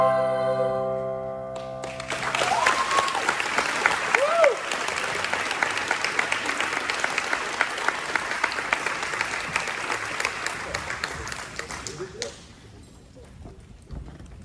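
A school music recital audience gives the performers a long round of applause, the clapping rising quickly after a held musical note, staying loud and dense, then thinning out toward the end.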